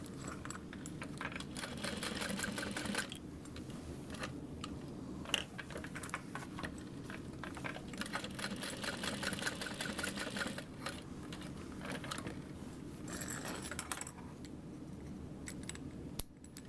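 A sewing machine runs steadily, stitching a box stitch on a Minerva tote bag, with a continuous close mechanical whir and fine rhythmic clatter that holds throughout, plus a few light clicks and short pauses.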